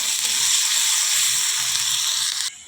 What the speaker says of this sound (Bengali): এবারে আদা রসুনের পেস্টটা দিয়ে দিলাম আর একটু ভালো করে ভেজে নেব মশলাটা